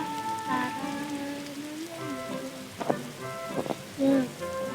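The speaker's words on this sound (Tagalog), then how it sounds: "So guys, naulan dito sa amin." Rain falls on a garden with a steady, soft patter throughout, a few nearby drips and splashes standing out, while tonal background sounds run underneath.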